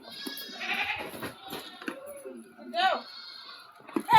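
Goats at the Sangola livestock market give a few short, nearby bleats, with one sharper call near the end, between and under a voice talking.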